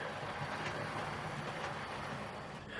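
A Dapol GWR Manor Class OO model steam locomotive, Hinton Manor, runs around a layout toward a signal box. It gives a steady, faint whirring rumble of motor and wheels on rail, with no pauses.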